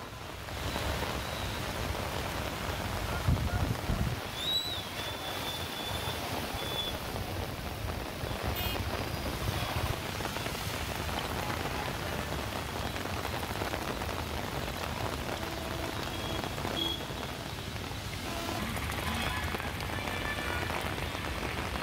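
Heavy rain pours steadily in Hyderabad, a dense, continuous hiss of drops beating on surfaces that holds a loud, even level throughout with no voices.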